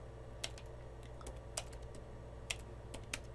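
Quiet, scattered keystrokes on a computer keyboard as router configuration commands are typed, with a few sharper key clicks standing out over a steady low electrical hum.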